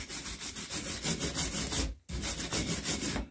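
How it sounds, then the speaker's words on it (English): Wizard wheel and angle grinder stripping old paint off a metal vice, a loud continuous abrasive rasping grind with pulsing rhythm, cutting out briefly midway before resuming. "I think we need to get our wizard wheel and our grinder in there and take all this old paint and crap off."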